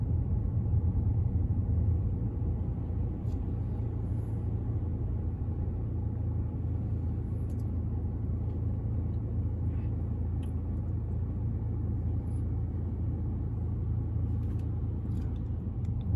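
A car drives through the streets of Brussels, its steady low engine and road rumble continuous and close throughout, with faint traffic sounds above and no talking.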